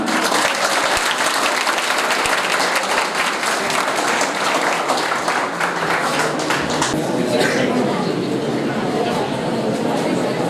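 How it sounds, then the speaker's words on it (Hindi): A crowd applauds loudly and steadily, many hands clapping in a dense, continuous roar that holds from start to finish. "मैं चाहूँगा एक बार फिर से आप जोरदार तालियां बजाएं।"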